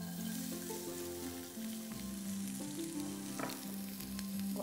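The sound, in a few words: onion frying in a pan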